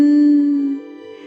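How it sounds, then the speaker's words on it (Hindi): A single magic bell rings once with a clear, bright chime that holds briefly and then fades, loud and alone. "बिना किसी ने छुए घंटी खुद ब खुद बज उठी"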